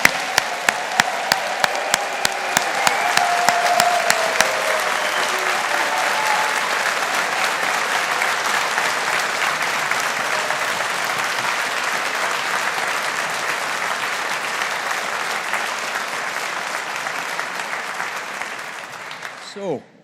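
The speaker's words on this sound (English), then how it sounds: "let's give the class of 2022 a big round of applause." Long, steady applause from a large crowd at a Strathclyde University Faculty of Science graduation ceremony for the class of 2022, a dense roar of clapping with a few sharp individual claps at the start, fading out abruptly at the end.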